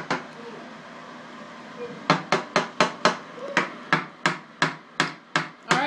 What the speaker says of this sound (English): Hammer gently, please.